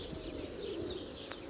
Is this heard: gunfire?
no